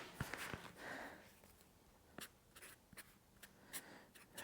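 A pencil scratches a measurement onto paper in a workshop while a custom transmission crossmember is being designed, producing faint, soft, intermittent scribbling strokes with brief pauses.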